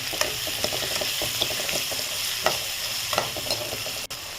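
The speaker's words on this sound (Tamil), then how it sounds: "வெங்காயம் நல்லா வதங்கிட்டுருக்கு." Salted onions sauté in a pan for radish sambar, with a steady crackling sizzle and a string of quick scraping clicks from close-up stirring.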